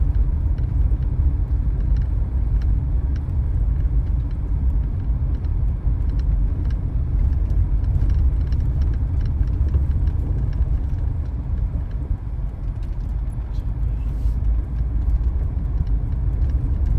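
A car drives slowly through a roadside place, its engine and tire rumble steady and close for the whole stretch, with faint rattles and no talking.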